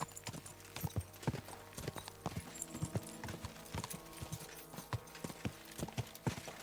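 Horse hooves clip-clop at a steady walking rhythm in Kingdom Come: Deliverance II, medieval setting, with sharp repeated hoof strikes at moderate distance over a faint ambient bed and no speech.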